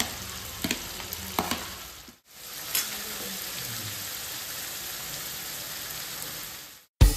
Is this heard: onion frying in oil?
yes